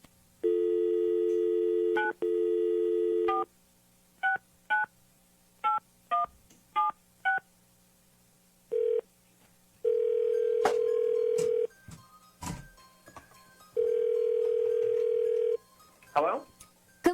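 A telephone is dialed, with a run of touch-tone beeps of varied length, followed by repeated long ringback tones with pauses in between, fairly loud and clear, while a voice speaks briefly between the tones.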